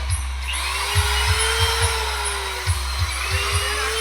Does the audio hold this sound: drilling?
yes